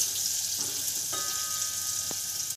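Whole dried chillies and spices sizzle and crackle steadily in hot oil for a dal tadka, a bright hissing fry with a couple of soft clinks, then cuts off abruptly.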